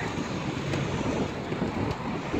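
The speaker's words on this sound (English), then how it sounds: "Man, is it windy out here." Wind gusts outdoors beside a fireworks store, a steady low buffeting roar with soft rushing noise and a few brief thumps, moderately loud with no one talking.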